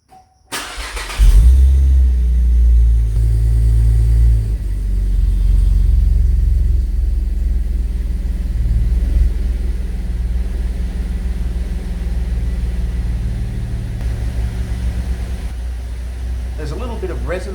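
A modified Holden SV6 Commodore fitted with a new exhaust starts up and settles into a deep, loud, rumbling idle, steady and close, with a slight resonance that eases off over the run. Someone speaks briefly over the engine.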